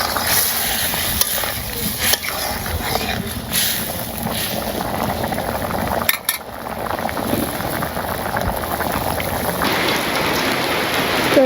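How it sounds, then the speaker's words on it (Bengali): Village rain falling steadily, a dense close hiss of drops pattering on surfaces throughout, with a few brief louder knocks and a short dip midway. "তো এই যে বৃষ্টি নেমে পড়ছে,"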